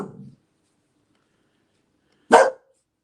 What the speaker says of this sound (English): Please excuse my stupid dog that's barking in the background.